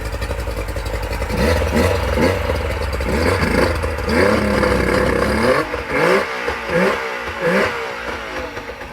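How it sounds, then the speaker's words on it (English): A two-stroke engine revs up close: a buzzing, rising roar that holds and swells, then breaks into several short, sharp throttle blips toward the end. "Oh, love it. Two-stroke."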